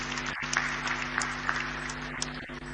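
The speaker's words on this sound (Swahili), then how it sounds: "Naomba tumshangilie kwa makofi mengi tafadhali" An audience applauds at a business meeting with Tanzanian President John Magufuli and South African President Cyril Ramaphosa, a dense and continuous patter of many hands with a low steady hum beneath.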